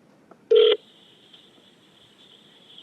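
An electronic telephone tone sounds on a call-in radio line: a short, loud two-tone beep, then a long, thin, steady high tone that runs on quietly before another burst at the end.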